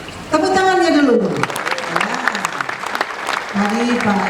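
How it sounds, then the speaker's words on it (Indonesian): An audience at an Easter worship gathering of a North Sulawesi family association in Sorong claps steadily and loudly throughout, while a voice speaks over the applause. "tepuk tangannya dulu."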